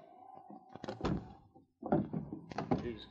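A door opens with a couple of heavy wooden thunks and rattles in a quiet night scene, followed by a brief silence and more clunks, close and fairly loud.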